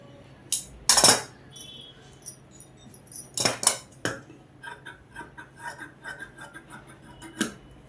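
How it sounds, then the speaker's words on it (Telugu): Scissors snip through extra cloth while a dress is being made, giving a few sharp metallic clicks and cuts with quiet pauses between them, close and fairly loud. "ఇప్పుడు ఎగస్ట్రా ఏమైనా క్లాత్ ఉంటే ఆ క్లాత్ని కట్ చేసేయండి"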